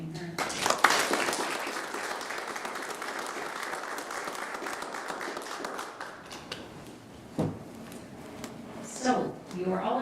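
An indoor audience gives sustained applause for an absent school award recipient at a school board event, a dense steady clatter of many hands that tapers off, followed by brief scattered claps and voices.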